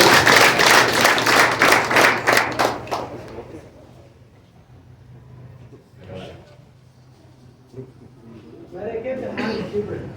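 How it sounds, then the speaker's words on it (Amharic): Audience at a church service clapping in a dense burst of rapid hand claps that fades after a few seconds, leaving quieter room noise and a voice, with scattered claps returning near the end. "አጨብጭቡለት።"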